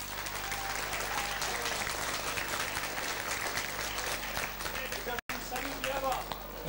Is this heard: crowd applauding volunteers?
yes